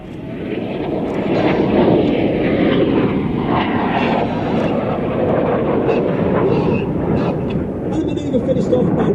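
A Red Arrows jet aircraft flies a negative G barrel roll at an air display, making a continuous loud roar that swells and fades while a commentator talks over it.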